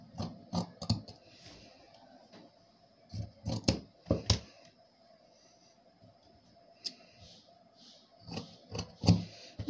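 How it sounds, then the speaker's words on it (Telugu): Close, quiet scissors snip blouse fabric for a prince-cut blouse front in short clusters of crisp cuts, with pauses between the bursts. "ఇప్పుడు నార్మల్గా బోట్ అనేది కటింగ్ చేసేస్తున్నాను"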